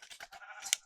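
A single Minecraft sheep bleats briefly and clearly, a short wavering cry with a sharp bright click near the end, close and alone.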